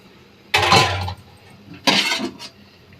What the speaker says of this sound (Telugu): ఆ జారులో అయితే వాటర్ వేసుకున్నాను అదే వాటర్ ఇప్పుడు కూరలో వేస్తున్నాను